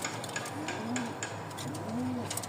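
A pair of racer pigeons coos in two soft, rolling calls, each a low rising-and-falling burr, with a steady background hiss and no voices.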